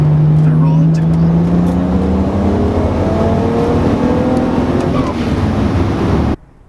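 A BMW 335 with the N54 engine and Eldor ignition coils accelerating hard, its engine note rising steadily and loudly through the revs before cutting off abruptly near the end.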